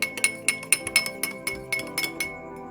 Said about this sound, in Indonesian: setelah itu kita aduk gelas A